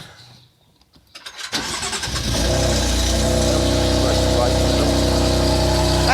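A BMW M4 engine fresh from repair cranks briefly after a quiet moment, catches, and settles into a loud, steady running roar close by.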